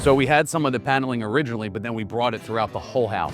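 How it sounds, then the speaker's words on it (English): Someone talks steadily indoors, his voice carrying a noticeable echo and lingering tail as if in a large, high-ceilinged room. "I'm sure you can hear my voice just reverbing right now"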